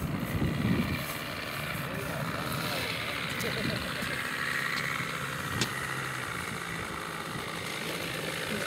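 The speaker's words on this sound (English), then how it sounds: "Let's see this bad boy take off." A radio-controlled model airplane's engine buzzes steadily at a hobby flying field, its pitch rising as the plane takes off, while people talk nearby.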